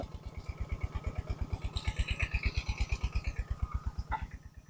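A small single-cylinder walking tractor engine chugs steadily at a fast, even rhythm, close and constant, fading slightly at the end, while ploughing a dry rice field.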